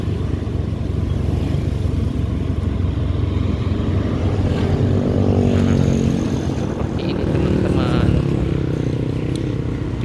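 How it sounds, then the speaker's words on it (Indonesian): A stream of Vespa scooter engines drones past on a road in daylight, a continuous loud motor hum with rising and falling passes layered together. "Ini dari tadi banyak sekali rombongan Vespa, mungkin lagi ada acara."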